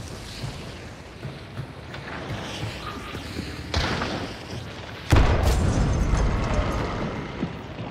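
Grenade explosion in the video game Hunt: Showdown: a deep, heavy boom hits suddenly and rumbles on loudly, with a smaller thud earlier among the muffled gameplay noise.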